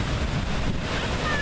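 Steady broadband rush of the river at Lampson Falls waterfall on a summer afternoon, a continuous wash of falling and flowing water with wind buffeting the microphone, heard alone at moderate loudness.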